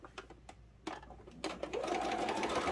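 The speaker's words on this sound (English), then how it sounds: "we're going to quickly chain piece those through" A sewing machine chain-pieces quilt block fabric with a 1/4 inch seam, starting with a few short stitching bursts and then running steadily and close up, with no talk over it.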